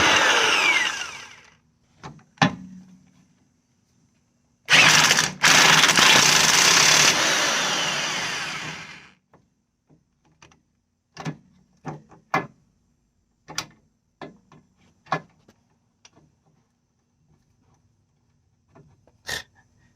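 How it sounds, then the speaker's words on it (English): A power tool whirs in a loud four-second burst while driving a spring compressor on the suspension of a 2012 VW Jetta, followed by a series of sharp metallic clicks and knocks in a quiet garage. "Spring compressor time."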